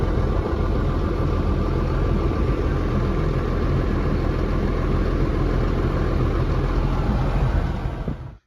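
A T8 tractor engine pulling a soil finisher through a field drones loud and steady throughout, a dense unbroken rumble that fades only at the very end.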